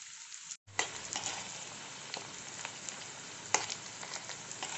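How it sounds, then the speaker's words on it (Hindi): Cornflour-coated paneer frying in oil, a close crackling sizzle with a brief gap near the start and occasional sharper pops as pieces are turned. "तो हम इसे अच्छे से फ्राई कर लेंगे अलट पलट के।"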